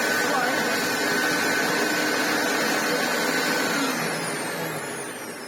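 Restored Hoover Turbopower 2 Autosense U2464 upright vacuum cleaner running, a loud steady close whirring drone that holds throughout and eases slightly at the end.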